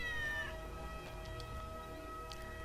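A cat meows several times in LEGO Marvel's Avengers on Barton's Farm, short high calls over a steady game music drone.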